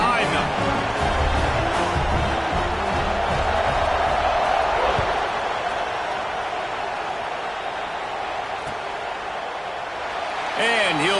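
Crowd noise fills a football stadium before a kickoff following a touchdown, a steady roar with scattered cheers and whoops, with a commentator's voice running over it.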